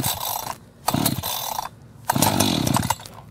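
An Echo CS-4910 chainsaw is pull-started, two loud rasping recoil pulls and a brief sputtering false start as the engine fires and dies, with quiet gaps between pulls.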